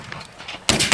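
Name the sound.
Civil War reenactors firing muskets by file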